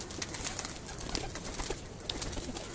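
Pigeons kept by a fancier, cooing softly and repeatedly amid a busy, noisy background with scattered chirps, no talk.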